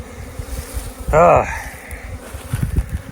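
Honeybees buzzing around a busy hive during a robbing season, a steady insect hum with a louder close pass of a single bee sweeping by midway.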